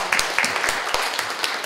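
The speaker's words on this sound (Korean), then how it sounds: "우리 뜨거운 박수 한번 좀 부탁을 드리겠습니다" A room full of people gives an introduced student warm applause, steady dense clapping with a few louder individual claps standing out, and no voices over it.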